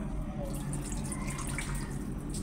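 Water runs steadily and close into a cooking pot for a thin curry, with an unbroken splashing stream and no voices.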